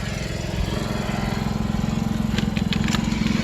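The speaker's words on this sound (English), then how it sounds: "we got a riding lawnmower today, so that's Sean cutting the grass" A riding lawn mower cuts grass outside a cabin, its engine droning steadily and close with a rough, pulsing low rumble throughout, plus a few faint higher clicks near the end.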